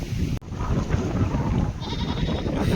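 Young goats bleat in an open field over steady wind noise, their calls mixed into a constant rushing background.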